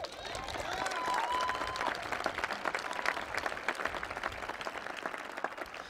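An audience applauds a Colorado governor's speech with steady, dense clapping that holds throughout at a moderate distance, and a faint voice briefly rises over it early on.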